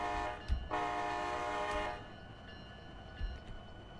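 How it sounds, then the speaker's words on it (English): A custom locomotive horn sounds on a UP SD70 Ace in the Run8 train simulator, one sustained chord blast of over a second amid low rumbling thumps of the engine, then fading to quiet. "So this is what the horn sounds like on our locomotive."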